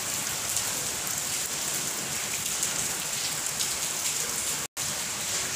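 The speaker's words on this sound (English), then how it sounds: "And it's still raining. It's not stopping." Steady, dense rain pattering on a surface, continuous hiss throughout with a brief dropout near the end.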